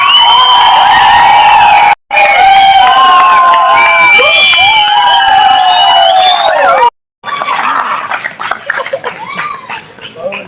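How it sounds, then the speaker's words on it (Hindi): A church congregation shouts, whoops and cheers for Jesus in a loud, close burst of excited voices that cuts out briefly twice, then trails into scattered cries. "Come on, somebody shout for Jesus!"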